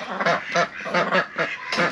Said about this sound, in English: all of the other ducks were kind of crowding around her